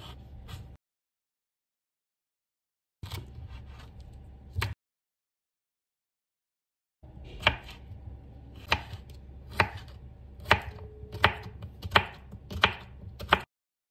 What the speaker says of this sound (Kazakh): Енді огурцеді турап аламыз.